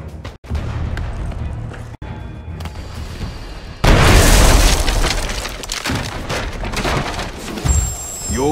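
A heavy cannon blast in Shadow Tactics: Blades of the Shogun booms out, followed by a long roaring rumble that slowly fades, with softer game sounds before it.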